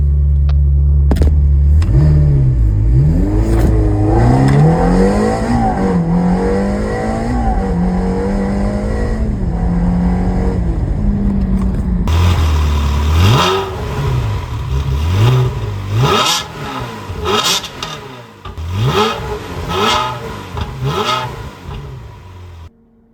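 A Ferrari engine on a road trip revs repeatedly, rising and falling in pitched sweeps before a series of sharp, loud throttle blips close by, with no talking.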